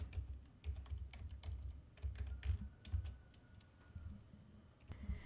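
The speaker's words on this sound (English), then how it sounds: "you want to type in your question" Keys clatter on a computer keyboard as a question is typed into a chat assistant, an irregular run of quiet, close clicks with short pauses between bursts.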